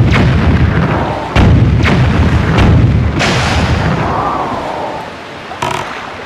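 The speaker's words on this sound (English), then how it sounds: "Man, we just blew 24 bombs just now." Bombs exploding in The Legend of Zelda: The Wind Waker Randomizer, a series of loud booming blasts, several in quick succession followed by a longer rumbling one and a final burst, without talk.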